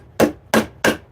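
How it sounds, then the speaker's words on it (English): A stain can lid is tapped shut with a lump of wood: three sharp, evenly spaced knocks, close and loud, each with a quick woody decay and nothing else in between. "that's actually how I close my stain, is with a lump of wood."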